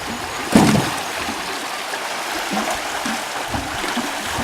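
Water rushes and churns steadily nearby as a water wheel turns in a stream in the Coromandel, with a brief louder splash near the start, then a continuous even flow.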